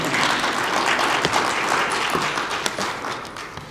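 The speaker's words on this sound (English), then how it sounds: "Can we get a round of applause" A crowd gives a sustained round of applause at a university awards keynote, a dense, even roar of many hands that tapers slightly toward the end.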